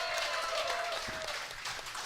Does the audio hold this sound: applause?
yes